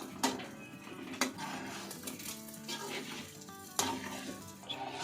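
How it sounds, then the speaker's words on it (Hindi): Cream stirred into a chicken white pepper karahi over low heat, quiet bubbling and a faint sizzle with sharp metal knocks of a spoon against the pan at intervals, close and fairly soft. "और क्रीम डालते हैं ना आंच को स्लो कर देना और हम मिक्स कर लेंगे क्रीम को"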